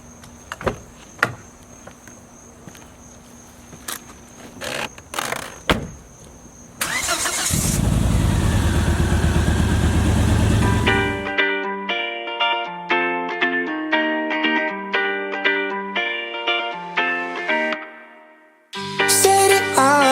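A newly bought used car's engine bursts into a loud, rough roar for about four seconds after some scattered clicks and rattles, then gives way to music.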